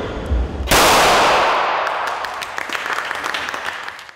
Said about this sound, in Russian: Право первого выстрела спортсмены предоставили заместителю главы Сочи Анатолию Луцику.